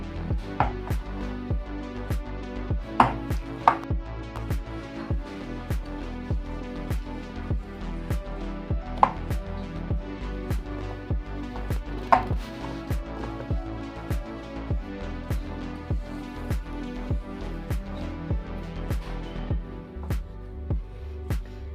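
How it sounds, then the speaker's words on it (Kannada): A knife chops cheese into small pieces on a board in a home kitchen, making steady, close, repeated sharp taps at a brisk rhythm, with no talking. "ಈಗ ಚೀಸ ಸಣ್ಣದಾಗಿ ಕಟ್ ಮಾಡಿ ಹಾಕ್ಕೊಳಕತ್ತೀನಿ ರೀ"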